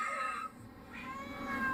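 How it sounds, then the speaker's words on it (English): A female cat in heat meows and yowls in drawn-out, wavering cries, close and fairly loud, rising and falling across the short stretch with a brief dip in the middle. "Mama Cat's in heat"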